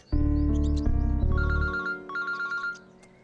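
A telephone rings with a bright electronic ringtone: a loud, steady tonal burst, then a repeating pattern of short chiming phrases that stops abruptly, with no talking.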